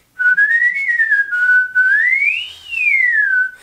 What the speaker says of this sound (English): much like when you whistle